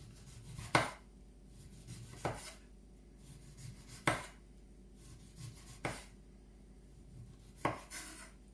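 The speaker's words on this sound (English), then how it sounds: "I just cut around the orange, just taking off the peel" A kitchen knife cutting the peel off an orange for a chocolate orange cheesecake, five crisp, close knife strokes against the fruit and board, spaced at irregular intervals, with quiet pauses between.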